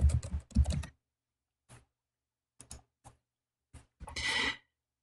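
Quiet bursts of typing on a computer keyboard: a quick flurry of keystrokes, then scattered single taps separated by pauses, ending in a short rapid run of keys, with no talking.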